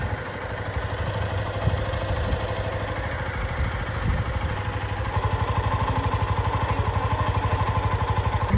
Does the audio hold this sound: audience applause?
no